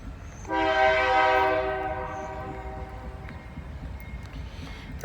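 A freight train led by XBNSF-9 locomotives sounds a loud, sustained horn blast as it approaches a State Route 68 crossing, the tone fading into a steady rumble of rolling cars.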